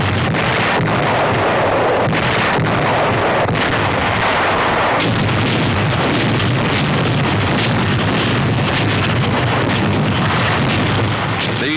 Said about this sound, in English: A huge 280mm cannon led the German artillery